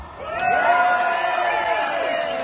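A crowd at a street protest march in Perth cheers and whoops loudly, a close, sustained swell of many voices shouting together with overlapping high calls.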